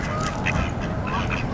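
Wild ducks quack loudly and continuously at close range while being fed by hand, several birds calling over one another in a busy, noisy chorus.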